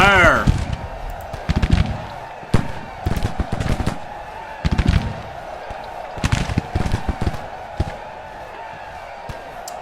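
Infantry volleys crack out in the Civil War strategy game Grand Tactician during a vicious Battle of the Wilderness, with repeated sharp bursts of massed musket fire, some heavy and some scattered, over a rumbling battlefield din.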